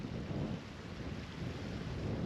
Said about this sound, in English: that rain's coming over